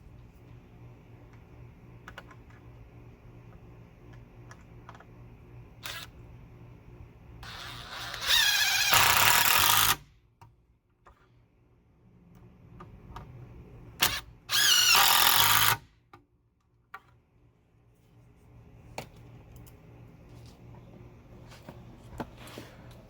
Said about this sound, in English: I'm going to be attaching those using a Craig jig for pocket holes